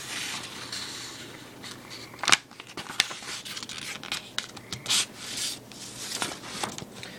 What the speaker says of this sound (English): You fold the piece of paper.